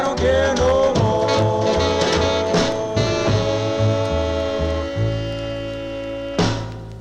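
A 1950s doo-wop vocal group record with harmonies over a steady backbeat and bass, playing continuously at moderate volume.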